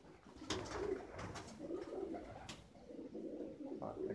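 Pigeons in a loft coo softly and repeatedly, low rolling calls overlapping at a moderate distance, with faint background rustle and no talking.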